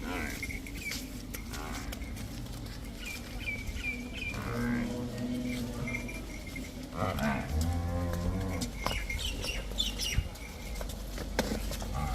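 Cattle and buffaloes low and moo repeatedly over a steady farmyard background, with faint bird chirps scattered throughout.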